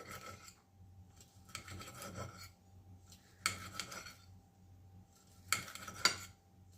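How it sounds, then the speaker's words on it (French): A knife cuts sausages into strips, giving about four separate rasping strokes against a quiet kitchen background, with the last two louder and sharper. "je viens couper mes saucisses en lamelles"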